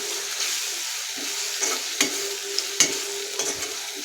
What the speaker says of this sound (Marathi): कढीपत्ता आता हे आपण तेलामध्ये चांगलं परतून घेऊया